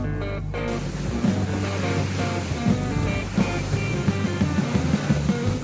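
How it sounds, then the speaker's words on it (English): A fast speedboat on a private charter off Key West runs out across the open ocean, with a steady roar of rushing water and wind and periodic slaps from bumpy waves, loud and close. "We're going so fast in this boat, just straight out into the ocean."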